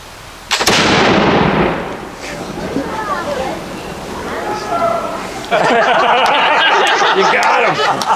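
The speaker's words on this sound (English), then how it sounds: "Firing wall gun!" An 18th-century wall gun fires during an artillery demonstration at a Fort Loudoun Christmas garrison event, one sharp outdoor blast followed by reverberation, with people chattering and laughing afterward.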